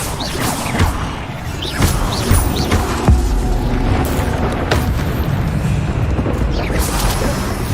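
Incendio fire spell blasts in Hogwarts Legacy go off in quick succession: booming bursts with crashing impacts and whooshes, loud and layered over a continuous rumbling game soundscape.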